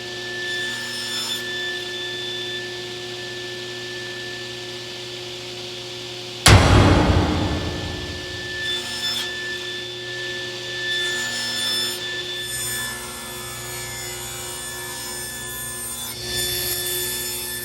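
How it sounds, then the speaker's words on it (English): Wood pieces for a sling puck board are sanded, with a sharp knock and then rubbing and scraping strokes, close and moderately loud, over a steady background hum. "We're going to sand it all down before we assemble it."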